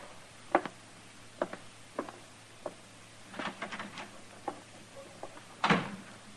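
A door opens and closes in a radio western drama, with a series of sharp wooden clunks and knocks and then one heavier thud near the end, against faint background hiss and no voices.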